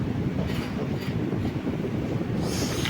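A Thrissur–Guruvayur passenger train rolls along the line, a steady low rumble of the carriage with faint rhythmic wheel knocks and brief hissy bursts, heard from inside, continuous and fairly quiet.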